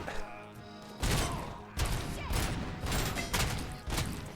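Gunfire rings out in the video game RoboCop: Rogue City as a series of loud, punchy bursts, about six shots or short volleys in quick irregular succession after a quieter opening second.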